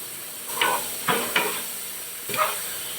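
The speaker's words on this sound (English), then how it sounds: "Get that all stirred up." Ravioli in a homemade cheese sauce gets stirred, giving three or four short, wet scraping strokes with brief pauses between them, fairly close and with no talking.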